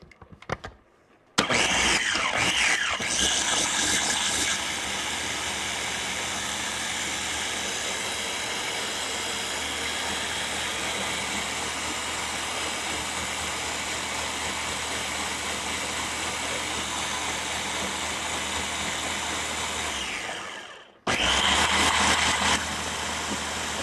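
Blender puréeing creamy potato and leek soup, starting with a sudden loud whir that holds steady for about twenty seconds before a brief pause and restart, close and continuous with no talking.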